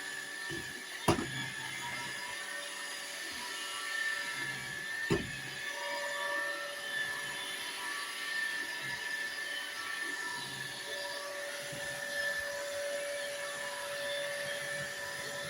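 A robot vacuum cleaner sweeps a house floor with a steady mechanical whir and hum, broken by a couple of sharp knocks as it bumps into things, heard close with no speech.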